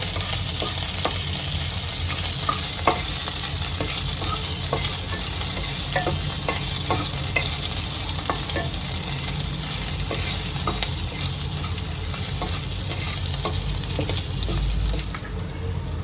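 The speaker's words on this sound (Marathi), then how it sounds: "मी मिरच्या ज्या कापून घेतलेल्या आहेत त्या सुद्धा मी तेलामध्ये परतून घेते" Chopped green chillies fry in oil for okra bhaji, a constant close sizzle with frequent stirring clicks and scrapes running throughout, no speech.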